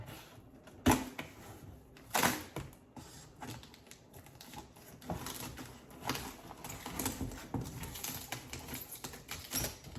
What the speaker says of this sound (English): So you already know I gotta have my scissors ready.